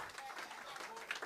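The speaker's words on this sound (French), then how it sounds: "Mais faut m'applaudir ça." Faint crowd applause rises at a festive party in Montreal, a diffuse, distant patter with murmuring voices mixed underneath.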